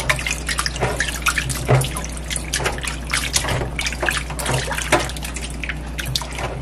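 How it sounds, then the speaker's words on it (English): Tap water runs over grapes being rinsed, a close, continuous splashing and trickling with irregular drips and patters throughout and no talk. "you rinse out your fruits, you rinse it out."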